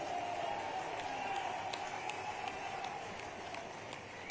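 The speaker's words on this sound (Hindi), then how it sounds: "आप जोरदार ताली बजाओ तो आपकी बात पे विचार करता हूं।" An audience clapping at a college event in Shujalpur, a faint, distant patter of many hands with a low steady hum and light crowd noise underneath.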